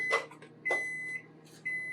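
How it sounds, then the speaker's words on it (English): Three short electronic beeps from a microwave oven, evenly spaced, clear and moderately close in a quiet room. "That's the microwave beep."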